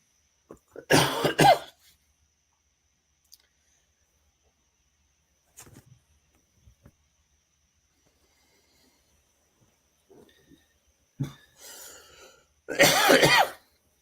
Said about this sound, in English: So I get my coughing out.